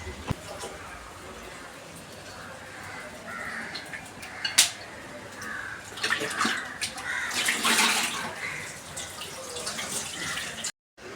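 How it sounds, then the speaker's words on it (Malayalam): Prawns and crab washed in water, with splashing and running-water sounds that swell toward the end, some faint background clatter and distant bird caws mixed in. "ഇനി രണ്ടും ചെമ്മീനൊക്കെ ഒന്ന് ക്ലീൻ ചെയ്തെടുത്തിട്ട് വെക്കാം കേട്ടോ."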